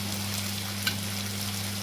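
Cauliflower, potato, pea and tomato sizzle steadily in hot oil as a tempering, a continuous close frying hiss with a faint low hum beneath.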